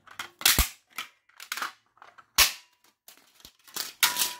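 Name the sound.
breaking part of a Starlicht fluorescent light fitting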